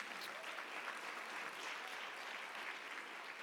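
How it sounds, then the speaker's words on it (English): An audience at a business networking session applauds steadily, a dense, even patter of many hands clapping throughout, moderately distant and without any voices over it. "another round of applause for Jonathan Sprinkles"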